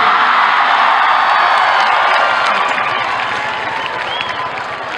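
Audience applause at a mushaira poetry recital, a dense, loud wash of clapping from a large crowd that carries steadily throughout and eases slightly toward the end.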